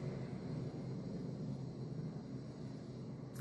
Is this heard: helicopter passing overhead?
yes